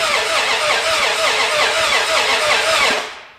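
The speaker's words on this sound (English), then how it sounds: "Everything here should be as good as it can possibly be to make this motor crank over." A new starter cranks an old, long-abandoned Mopar engine at close range, giving a loud, even, rapidly pulsing whir that runs for about three seconds and then stops.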